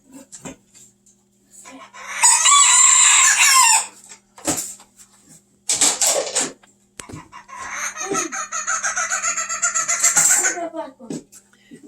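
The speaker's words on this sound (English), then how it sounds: "These are the Japanese chickens." Japanese chickens clucking and a rooster crowing in loud, bursting calls, with a few shorter sounds between them and faint talk nearby.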